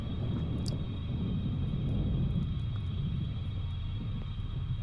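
A storm rumbles in the horror video game The Last Crown: Midnight Horror, a steady low continuous roar filling the background without breaks.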